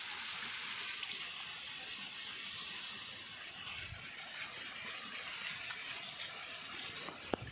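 Irrigation water gushes and splashes steadily into a wheat field in rural Gujarat, a continuous, fairly faint rushing flow with no talk over it.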